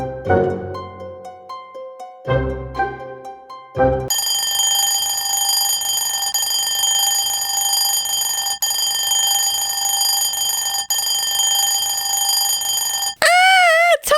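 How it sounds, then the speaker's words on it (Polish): A few chiming tones give way to a loud, steady electronic alarm ringing continuously for about nine seconds, ending in a warbling beep. "Wyłącz ten budzik!"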